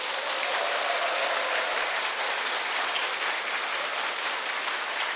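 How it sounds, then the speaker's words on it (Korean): Steady, dense applause from a large crowd at a lecture event, a continuous wash of clapping that holds at an even level throughout with no voices on top. "큰 박수 한번 보내드리겠습니다"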